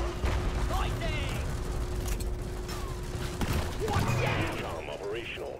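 Plasma grenades going off in the video game Deep Rock Galactic, a run of bursts and crackling blasts mixed with game noise and a steady hum, loud and close throughout.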